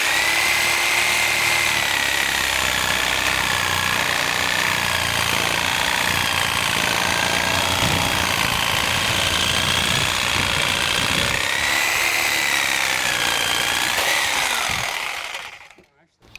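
A power saw cuts through wooden deck joists with a loud, continuous whining grind that wavers slightly with a rocking motion, then shuts off and cuts out abruptly near the end.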